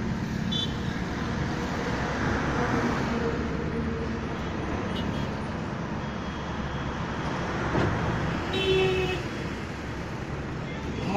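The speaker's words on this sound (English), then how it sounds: "Due to heavy vehicles just passing by from this bridge, the bridge is also shaking." Heavy vehicles rumble continuously over a shaking highway bridge on a ring road, a loud broadband traffic roar with passing swells throughout and no clear talk.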